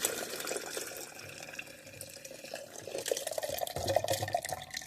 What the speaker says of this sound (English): I'm actually going to pour this into the blender.